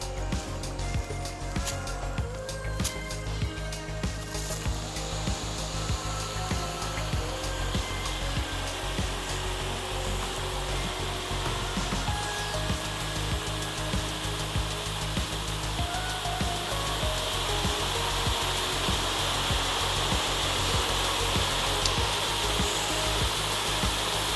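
A waterfall at the Petite Suisse nature area in Couffouleux runs alongside a building, giving a loud, steady rushing roar that continues without a break from start to finish.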